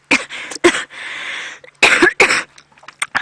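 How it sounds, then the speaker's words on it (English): A person breaks into a run of harsh, hacking coughs close to the microphone during a sunset safari drive, with several sharp bursts and one longer rasping spell over about three seconds. "Sorry, and my hacking cough."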